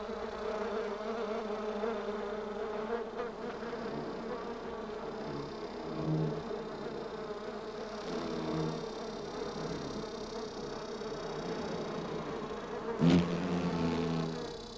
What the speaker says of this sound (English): bees and wasps buzz over the last free moisture of the dry